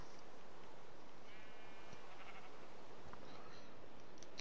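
A Minecraft sheep gives a short, wavering bleat, partly buried under a loud, constant wash of hiss and noise.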